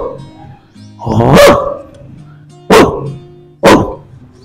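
A man imitates a dog barking with his voice: three sharp, loud barks, the first longer and drawn out, the next two short and spaced about a second apart, standing alone without talk.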